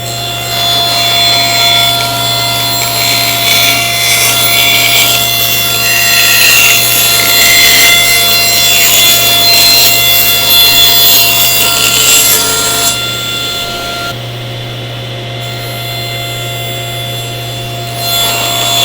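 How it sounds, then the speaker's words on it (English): Table saw cuts through half-inch MDF and mahogany strips in one pass: a loud motor hum with a harsh grinding rasp of blade in wood, which eases near the end as the saw keeps running. "I have set my saw blade, the height, to cut through not only my 1/2-inch MDF, but also my mahogany strips"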